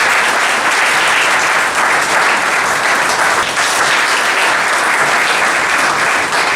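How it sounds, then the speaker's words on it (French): Wedding guests applaud the newly consecrated queen, a loud, sustained, uniform roar of clapping that fills the whole stretch without letting up. "Applaudissons la reine."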